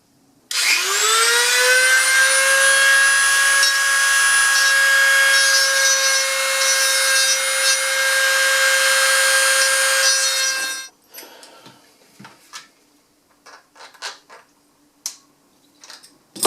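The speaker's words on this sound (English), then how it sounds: "So let's get out the Dremel." Dremel rotary tool grinding the chamber of a titanium 10mm high-capacity 1911 pistol, a high steady whine that spins up and runs loud for about ten seconds before stopping, followed by scattered light clicks and handling noises.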